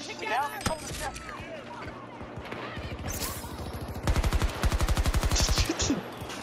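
Gunfire fired from a moving vehicle in a Battlefield game, scattered shots and engine noise first, then a fast regular automatic burst near the end, loud and close, with people talking over the early part.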